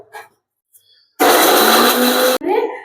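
A kitchen mixer grinder whirs loudly for about a second, grinding coconut and cashews into a thick paste, with brief voices just before and after.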